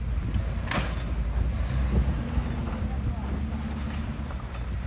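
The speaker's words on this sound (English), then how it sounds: "Here comes George in the Kubota." A Kubota utility vehicle rolls past at an outdoor motorsport event, its low engine drone steady and moderately loud throughout the few seconds, with no clear change in pace.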